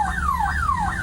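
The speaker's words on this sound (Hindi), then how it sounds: "तो ये तस्वीरें जहां आप एम्बुलेंस का सायरन सुन रहे हैं" An ambulance siren in road traffic wails in a rapid rising and falling cycle, repeating about three times in a second, loud and steady over low traffic rumble.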